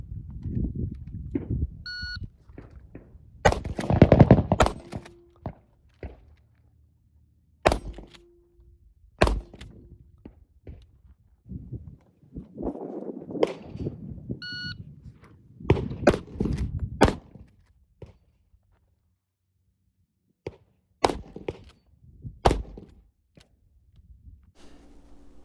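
A Marlin lever-action rifle fires shot after shot during a barrier drill, with the shooter changing from kneeling to other positions. Sharp, loud reports come singly and spaced apart over a long stretch, mixed with handling thumps, clanks and an occasional beep.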